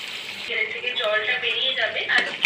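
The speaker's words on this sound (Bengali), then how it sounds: "তো আমি এটা 20 মিনিট ভালো করে আমি কষিয়ে নেব খাসির মাংসটা" Mutton being kosha-fried in a pan for biryani gives a steady, close sizzle that runs throughout beneath a person talking.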